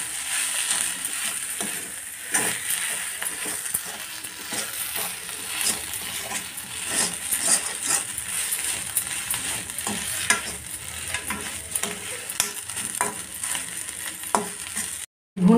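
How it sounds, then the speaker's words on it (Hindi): A potato stuffing with roasted cumin and green coriander roasts in a pan, making continuous sizzling broken by repeated scraping and stirring knocks of a spoon against the pan. "भुना हुआ जीरा और हरा धनिया रस, और इसको फिर थोड़ा सा हम भून लेते हैं।"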